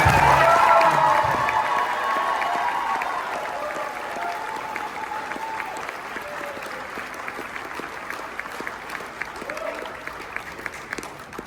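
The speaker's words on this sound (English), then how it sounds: "Please give all Phoenix nominees a round of applause for staying" An awards-ceremony audience applauds the Phoenix nominees, loud clapping with some cheering at the start that gradually fades to scattered claps and crowd murmur.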